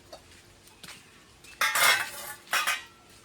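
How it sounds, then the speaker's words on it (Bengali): A metal wok is set down on a wood-fired clay stove, with a few light taps followed by two loud, close metallic clanks and scrapes in quick succession, and no talk. "এখন কড়াইটা বসিয়ে দেবো।"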